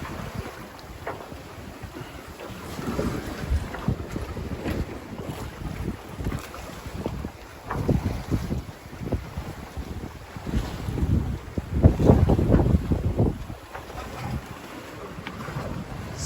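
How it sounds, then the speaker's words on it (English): Wind rushing steadily over a 40-year-old wooden trimaran sailing the open Pacific, a continuous broadband roar with gusty swells and faint water wash, no voices. "we found wind again"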